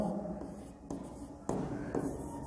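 Pen writing out a math solution on paper, soft scratchy strokes in short bursts with brief pauses between them, close and quiet.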